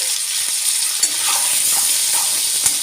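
Potatoes and green chillies drop into a spice tempering frying in hot oil, giving a continuous close, bright sizzle and hiss with small scattered crackles and no speech.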